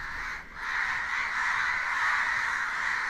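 A flock of crows caws loudly and continuously outdoors at Sindhudurg fort, a dense, harsh chorus that dips briefly near the start before filling the air again, with no speech.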